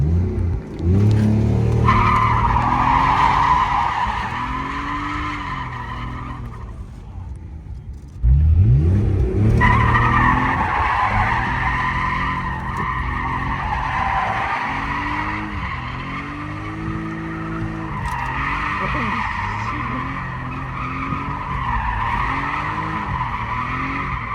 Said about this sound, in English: We're gonna do some donuts, baby.